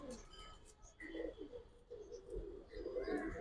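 Giribaz pigeons, including a silver hen and an aluminium cock, cooing in low, rolling bursts at close range, with quiet background noise and occasional faint chirps between calls.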